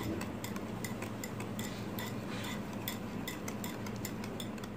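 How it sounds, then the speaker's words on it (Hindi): Dahi bhalla lentil batter being beaten by hand into a soft paste, a steady run of quick soft ticking and clinking strokes against the bowl continuing for several seconds, close and fairly quiet with no talk. "और अच्छी तरह इसको 5 मिनट्स के लिए बीट करना है ताकि हमारे साथ एक मुलायम सा पेस्ट आ जाए।"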